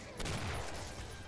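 A single loud gunshot in the video game Killing Floor cracks out, followed by a rumbling, noisy decay that lingers for about a second.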